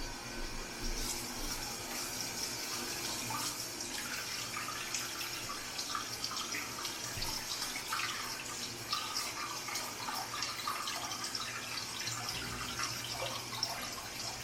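Hot wort running from a home-brew kettle valve into a fermenter during a kettle sour brew, a steady close splashing stream like a running tap that continues without pause.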